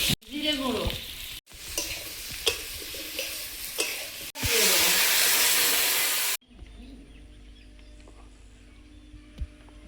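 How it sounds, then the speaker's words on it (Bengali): Fish curry gravy with green chillies, potato, salt, turmeric and cumin powder boils and sizzles in a pan, a steady close bubbling hiss broken by stirring clatters. "ঝোলটা ফুটছে, মাছগুলো দিয়ে দেবো"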